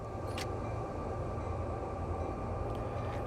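A heavy freight train on Sherman Hill in Train Sim World 2 rumbles steadily, a deep continuous low drone with a faint high hiss, no voices.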